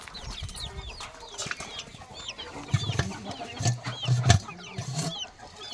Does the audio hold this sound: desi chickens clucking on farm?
yes